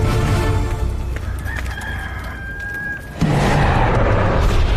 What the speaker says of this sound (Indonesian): Sebelum ayam jantan berkokok besok pagi, kau akan menyangkal 3 kali bahwa kau tidak mengenalku.